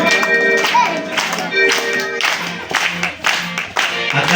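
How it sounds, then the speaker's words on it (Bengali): A group of devotees claps hands in rhythm for a kirtan, with repeated sharp claps over a loud, busy background of voices and music. "দেখেন ভক্তের করতালির মাধ্যমে আজ কীর্তন হবে। সবাই করতালি করবো"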